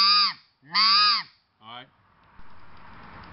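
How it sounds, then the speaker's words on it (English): Loud, harsh squawks blown on a RedBone game call, two long raspy honks followed by a shorter clipped one, close and alone before a soft noisy hiss. "Force it and hear it kind of squawk."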